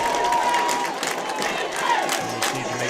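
A crowd at a varsity high school football game cheering and shouting in a sustained, loud roar, with scattered yells and a voice briefly audible over it.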